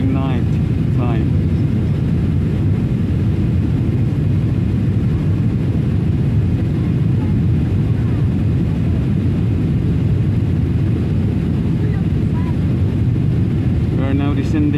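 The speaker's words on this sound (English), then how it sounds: "We are now descending down to the Kuwaiti airport." Steady, loud airliner cabin roar during the descent into Kuwait airport at night, a continuous broadband rumble with brief voices faintly audible near the start and end.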